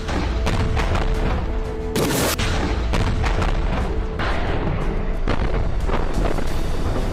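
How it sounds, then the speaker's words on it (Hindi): Rocket launcher fired at a tank in a Gaza combat setting, heard as repeated heavy booms and thuds with one sharp loud blast amid continuous rumbling noise. "एक और टैंक पर हमास का लड़ाका रॉकेट फायर कर देता है"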